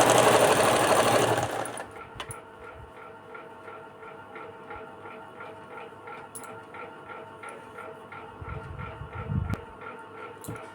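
A sewing machine runs a straight stitch on a blouse, a quiet rhythmic ticking hum after a louder rustle at the start, with a few soft bumps of fabric handling near the end.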